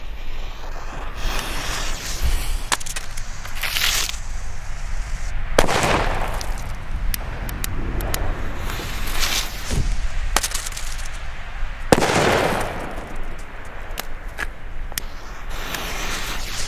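Katan Super 2 fireworks going off on New Year's Eve, a rapid run of sharp cracks and bursts with several louder bangs spaced through a crackling barrage, heard outdoors at moderate distance without talk.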